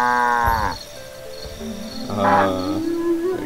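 A cow creature in the video game Black & White 2 gives two drawn-out moos, close and loud, separated by a short pause, with faint game ambience behind.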